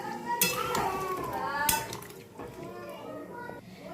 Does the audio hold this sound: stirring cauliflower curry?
yes